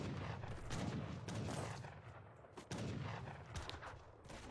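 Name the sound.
heavy cannons and culverins firing in a strategy video game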